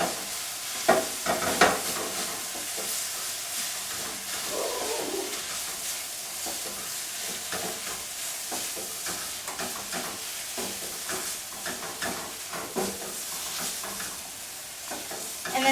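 Philly cheesesteak filling gets mixed in a sizzling pan, with continuous frying hiss and repeated rhythmic scrapes and clatters of a spatula over several seconds, close and fairly loud.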